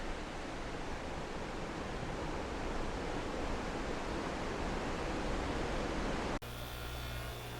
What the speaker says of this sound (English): As you can see, the waterfall back there.